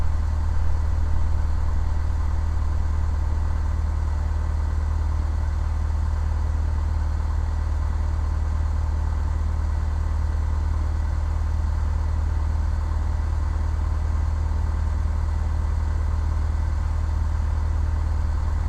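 A single-engine light aircraft idles at low throttle while taxiing, a steady, continuous low drone that holds constant throughout with no breaks.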